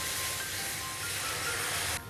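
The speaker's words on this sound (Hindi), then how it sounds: "हम अब इसमें दूध ऐड कर रहे हैं।" Milk poured into a hot butter and flour roux in a pan sends up a steady, fairly quiet hiss that continues for a couple of seconds before cutting off.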